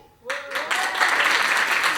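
Theatre audience in Lyon bursting into applause after a comedian's question, a brief tone then a sudden swell of many hands clapping that holds loud and steady, with a voice briefly heard at the start.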